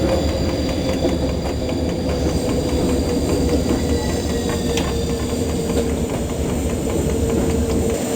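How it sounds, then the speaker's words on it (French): Steady rumble and rhythmic wheel clatter of a train on the Ligne des Alpes as it slows into Aspres station, heard from onboard, with continuous loud rolling noise throughout and no voices. "dans quelques instants, nous allons entrer en gare de Aspres"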